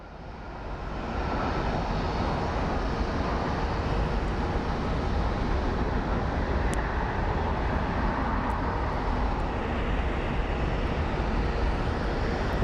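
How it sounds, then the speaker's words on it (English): A small Embraer jet airliner touches down at Phoenix Sky Harbor, a broad, steady jet roar that swells in quickly and holds loud and constant, heard from a distance with no talk. "Nice touchdown by the little baby Embraer."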